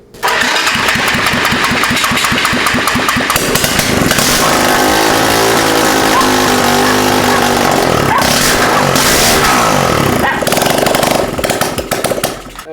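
Honda CBR600RR motorcycle engine swapped into a custom cross kart, revving hard and very loud, close up, with a sustained roaring drone that climbs and falls through several throttle blips.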